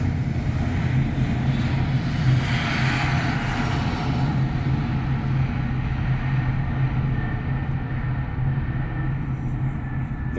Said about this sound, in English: That's the sound of an airplane taking off.